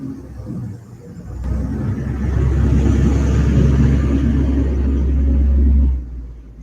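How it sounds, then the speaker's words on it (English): A truck passing through a park gives a deep, loud rumble that swells, holds steady for several seconds, then cuts off. It is heard alone, with no talk. "then I'm pretty certain you can hear this truck going by."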